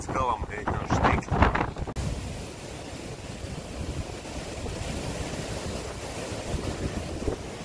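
Strong wind gusts buffet a microphone on beach dunes while someone runs, a steady roaring rush with broadband noise; some brief rustling and handling at the start, then continuous blustery wind to the end.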